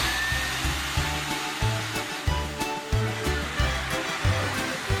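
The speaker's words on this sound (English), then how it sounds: "She's going to vacuum her car." A vacuum cleaner works inside a car, giving a continuous whooshing roar with a rhythmic low pulsing as the nozzle moves, loud and steady with no talking.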